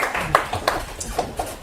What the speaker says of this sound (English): a round of applause for Georgia